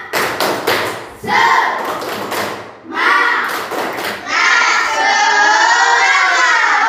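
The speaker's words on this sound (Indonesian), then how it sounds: "Tepuk semangat." A primary school classroom performs a spirit clap, children clapping loudly in rhythmic bursts with shouted chants, close and energetic, in several separate rounds followed by sustained group clapping and cheering.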